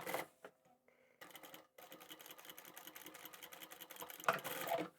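A sewing machine runs a seam closed on a fabric toiletry bag, with a few short clicks and starts before settling into a quick, steady mechanical chatter that holds to the end.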